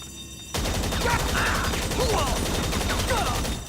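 Rapid sustained gunfire from a magazine dump in the video game GTA 5 Online, a continuous burst of shots at moderate level with faint overlapping game sounds, no voices heard.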